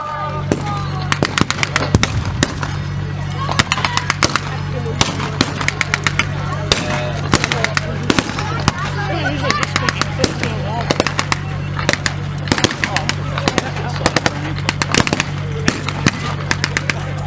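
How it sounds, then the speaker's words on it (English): Rifle and machine-gun fire at a wartime battle reenactment, with Germans firing on advancing British troops: sharp cracks and rattling bursts, near and far, fire continuously over a steady low hum. "And the Germans have now opened fire on the advancing British."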